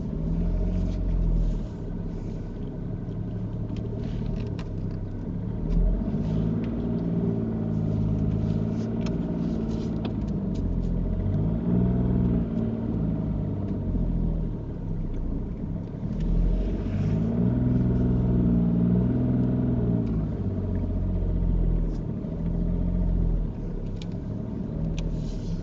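Car engine rumbles steadily at low speed while driving forward into a parking bay during a driving test, with gentle swells in revs and no speech over it.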